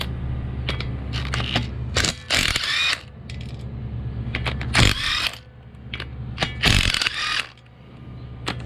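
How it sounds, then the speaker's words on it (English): Bolts being undone on a 13B rotary engine during a teardown, bursts of ratchet clicking alternating with quieter pauses, close and fairly loud against a low background hum. "start undoing all these bolts for the studs"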